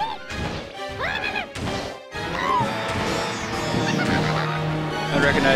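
A bird character from Super Mario Bros. 2 appears in Captain Toad: Treasure Tracker, giving honking, goose-like squawks amid crashing hits and bright game music.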